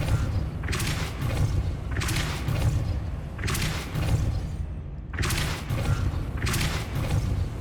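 Depulso spell cast in Hogwarts Legacy: a series of deep, booming magical blasts with rushing bursts repeat about every second, loud and close, with no talk.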